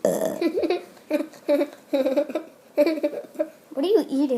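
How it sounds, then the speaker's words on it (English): Repeated burps, around eight short throaty bursts in a loose rhythm, come loud and close from a person over a few seconds, with a vocal, laugh-like edge on the last one. "Burping makes my stepbrother laugh."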